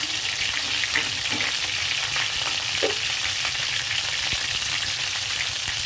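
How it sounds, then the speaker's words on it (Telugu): Stuffed brinjal fries in oil in a pan, a steady, close sizzle with a few soft stirring and turning knocks, no voices. "నెమ్మదిగా ఇలా టర్న్ చేస్తూ అన్ని వైపులా కాలేలాగా ఫ్రై చేద్దాం."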